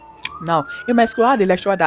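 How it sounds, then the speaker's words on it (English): A siren passes outside, a faint rising tone running steadily under a man's lecture-style speech in the foreground. "Sorry for the siren noise."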